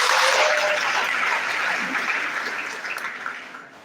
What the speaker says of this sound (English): give a round of applause to your department for organizing this